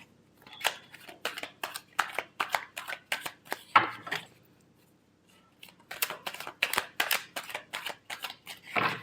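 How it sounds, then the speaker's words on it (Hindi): A deck of tarot cards is shuffled by hand in quick, rhythmic bursts of close riffling and slapping, with a brief pause midway before the shuffling resumes. "last shuffle"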